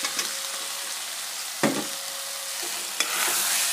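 Boiled potatoes fry in hot oil with turmeric and salt, a loud, steady close-up sizzle broken by a few sharp scrapes and clacks of a stirring spoon against the pan.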